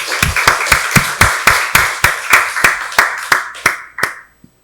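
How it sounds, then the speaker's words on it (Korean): A church congregation claps together during a Sunday worship service: a steady run of about sixteen sharp, evenly spaced claps, loud and close, that ends abruptly with no talking over it. "박수로 하나님께 영광 돌리겠습니다"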